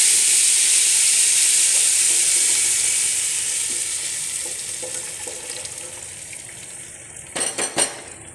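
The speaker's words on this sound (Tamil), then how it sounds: "அடுத்து இந்த அரைச்ச விழுத ஊற்றிடலாம்" Ground paste for a village-style dried fish curry fries in hot oil with a loud, steady hiss that slowly eases, with a few stirring clatters near the end.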